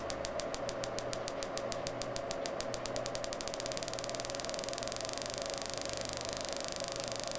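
A car engine managed by a Motec ECU runs steadily near idle, then its regular firing pulses speed up into a continuous fast hum, loud and close, with no talking.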